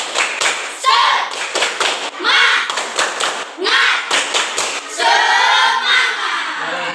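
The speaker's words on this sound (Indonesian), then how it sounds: "Coba Bapak minta tepuk semangat." A standing school class does rhythmic spirit clapping, tepuk semangat. Loud bursts of patterned claps alternate with the group's shouted chanting in a close, lively room.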